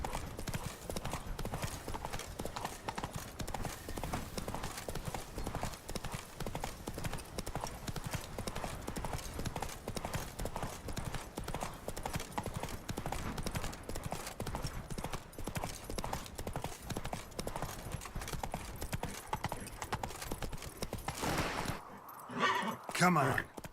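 Horse hooves clip-clopping steadily in the video game Witcher 3, a continuous loud rhythmic trot over a noisy game soundtrack, breaking off near the end.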